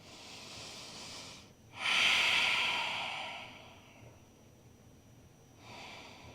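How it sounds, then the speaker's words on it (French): Heavy breathing from someone recovering in downward dog pose during a core yoga workout: two long, loud exhalations, each a few seconds, separated by a brief pause. A softer breath follows. "Reste ici, chien tête en bas. Reprends ta respiration."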